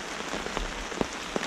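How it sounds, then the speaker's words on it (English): Steady rain patters on a riverside campsite along the Eleven Point River in Missouri in fall, a dense close hiss of drops with a few louder taps on a surface, with no voices. "Just wish the rain would let up a little bit."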